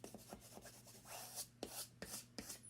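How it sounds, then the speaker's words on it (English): A burnishing tool is rubbed over cut material for a Cricut Maker project, giving a run of short, close scraping strokes in an uneven rhythm, fairly quiet over a steady low hum. "I'm going to use my burnishing tool to just get it pressed down there nice and good."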